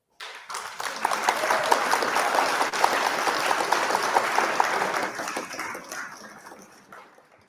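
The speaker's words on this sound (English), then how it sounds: "A huge round of applause for them." Audience at a supply chain awards ceremony breaks into applause, a dense burst of clapping that holds steady for several seconds and then tapers off.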